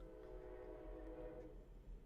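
A passing train rumbles loud and continuous with a low droning tone throughout, with no talk over it.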